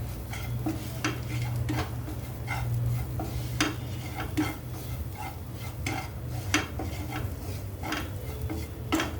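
A spoon stirs red chili powder, hing and amchur into a mashed green pea kachori filling, with scattered sharp clinks against the pot over a steady low hum, no talking.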